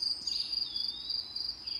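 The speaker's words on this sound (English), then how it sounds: "Pete hears an odd chirping noise. What is that? He asks out loud. Those are just the crickets." Crickets chirping in a nighttime camping setting, a steady high-pitched trill that pulses continuously and sits faint in the background with nothing else heard.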